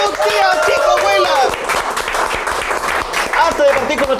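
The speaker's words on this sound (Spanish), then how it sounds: "¡Fuerte el aplauso, niña, niño, todos, tía, chico, abuela!" An audience at a Chilean comedy show claps and cheers, lively applause mixed with shouting voices and excited chatter throughout.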